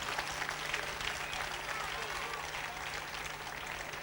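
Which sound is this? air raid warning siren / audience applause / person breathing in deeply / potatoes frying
audience applause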